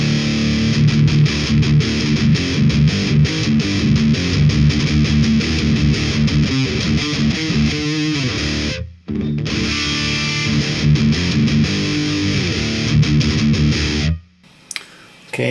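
An electric guitar plays a dense, loud run of chords and riffs through an amp with the pedal off, pausing briefly midway and cutting off at the end.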